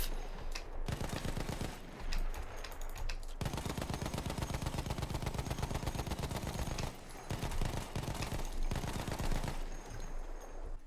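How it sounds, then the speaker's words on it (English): MG15 machine gun in the video game Battlefield 1, firing in rapid sustained bursts with brief gaps between strings, loud and close, no voices. "the first weapon available for the mortar support is the MG15 NA suppressive"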